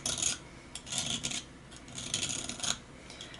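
Hand file rasping along a saw blade being ground and timed, uneven bursts of scraping strokes, near and fairly faint, with no talk.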